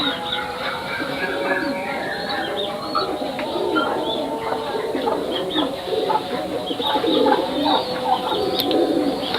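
Pigeons coo in a busy backyard poultry area alongside chickens and a duck, with layered bird calls and clucking running steadily throughout at moderate loudness.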